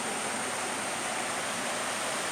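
A jungle stream and pools swollen by heavy rain rush in a steady, unbroken wash of water noise, moderately close, with no voices.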